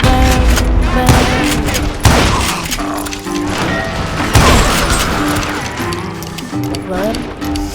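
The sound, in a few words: gunfire in video game Call of Juarez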